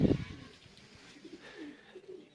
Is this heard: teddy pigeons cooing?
yes